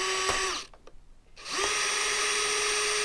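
A power drill whines as it backs a screw out of a 30-year-old redwood deck cabinet, cutting out for a moment midway before spinning back up to a steady high pitch, close and loud.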